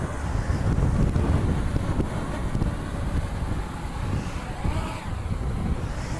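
Strong wind gusts buffet the microphone in a continuous low roar outdoors over grass while a drone is flown in high wind, with no voices.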